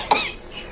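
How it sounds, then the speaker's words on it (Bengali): A single sharp cough, provoked by pungent fumes from food frying in a kitchen pan, is heard close and loud at the start, then fades into quiet room noise. "এটা থেকে আবার এই ঝাঁজ থেকে অনেক কাশি আছে,"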